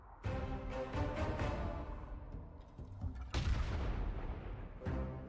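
Heavy artillery cannon fire in the World of Warcraft video game, a series of loud booming blasts overlapping with dense battle noise, with a sharp new volley around the middle and another near the end.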